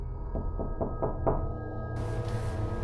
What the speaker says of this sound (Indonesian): Tapi dia masih memberanikan diri untuk mengetuk sekali lagi karena putus asa.